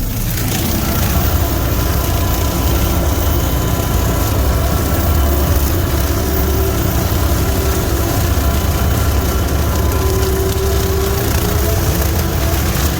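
A lawn mower with its deck raised high drives through snow and cattail stalks, its engine a loud, steady drone that runs without a break.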